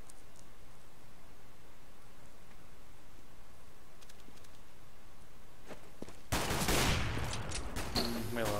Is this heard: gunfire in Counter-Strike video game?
yes